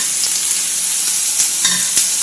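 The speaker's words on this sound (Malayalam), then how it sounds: "അതിലേക്കൊന്ന് ഉള്ളി ഇട്ട് കൊടുക്കുന്നു." Onion frying in hot coconut oil with popped mustard seeds for an Angamaly mango curry; a steady close sizzle with a few faint stirring taps, no voices.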